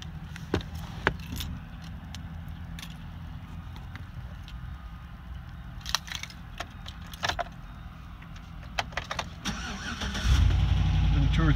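A car engine cranks and catches near the end, settling into a loud, steady idle after a few scattered clicks and jangling keys; the car had sat unused for two or three days and shows a service engine soon light.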